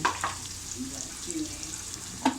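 Cardamom, bay leaf and chopped onion fry in a pan for a beef and bottle gourd curry, a soft continuous sizzle with a couple of brief utensil scrapes near the start and end.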